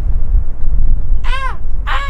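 A person imitates the call of a snow cock in Kyrgyzstan with two loud, hoarse, crow-like caws a moment apart, over steady low wind rumble.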